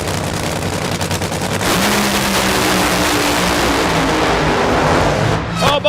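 Nitro Funny Car engine roaring at full power as the car fireballs at the finish line during a first-round Sonoma Nationals drag race against Jim Campbell; a loud, continuous blast that ends in a brief crackle.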